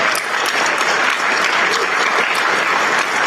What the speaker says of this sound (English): As they're applauding, the girl falls out.